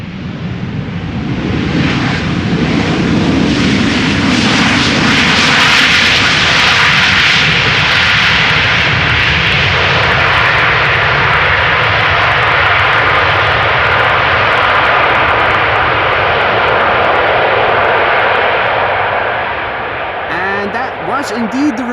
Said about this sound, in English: the reverser of a Boeing 737 from KLM that you heard just now